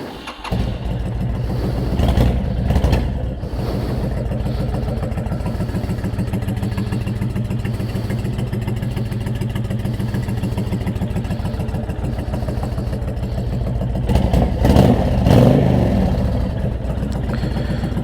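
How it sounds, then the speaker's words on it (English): A 2006 Honda VTX1300 motorcycle fires up and settles into a steady, loud, close-up idle with a lumpy pulsing rhythm, briefly blipped near the start and again toward the end. "I just had the bike running, so it should start right up"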